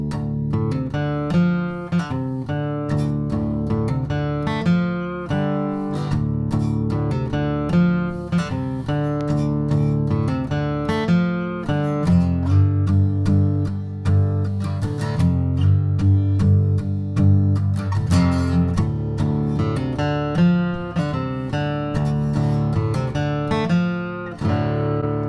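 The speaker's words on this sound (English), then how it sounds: "is a bluesy lick riff, and it sounds like this." A bluesy riff played on acoustic guitar in drop D tuning, with steady picked notes and low bass strikes continuing for about 25 seconds, solo and fairly loud with no voices.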